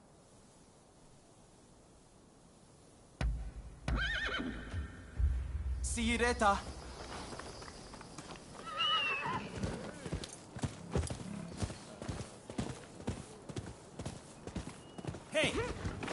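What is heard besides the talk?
horse neighing and hooves in video game Rise of the Ronin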